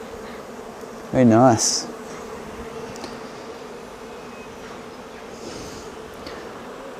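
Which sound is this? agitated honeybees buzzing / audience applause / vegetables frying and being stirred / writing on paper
agitated honeybees buzzing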